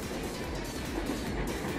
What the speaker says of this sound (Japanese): そして今度はあの急列車が走りました。